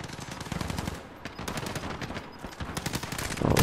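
Rapid gunfire in a Call of Duty video game crackles in dense overlapping bursts, loud and continuous throughout with no voices, a heavier thump at the very end.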